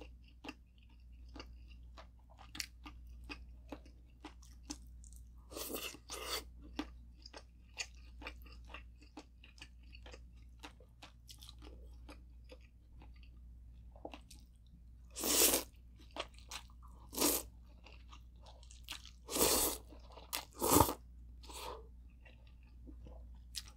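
Nongshim tonkotsu cup ramen noodles and pork being eaten up close, with steady soft chewing and slurping broken by several louder crunchy bites toward the end, no talking.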